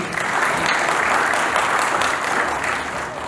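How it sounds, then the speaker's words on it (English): An audience gives a big, sustained round of applause at the Asia's Most Trusted Brand Awards 2016 ceremony, a loud, dense wash of clapping that runs steadily throughout with no voices on top. "could I have a huge round of applause for each and everyone present here?"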